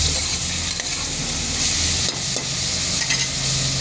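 Vada curry ingredients sauté and sizzle steadily in a pan for Tamil instant vada curry, a continuous close frying hiss with soft scraping stirs, no voices.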